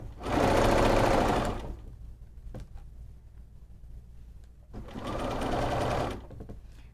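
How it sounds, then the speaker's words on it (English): A sewing machine stitches quilted fabric and mesh along a zipper tape in two steady whirring runs separated by a quiet pause, each burst fairly loud and close. "Go slow when you go over your zipper tape so you don't break a needle."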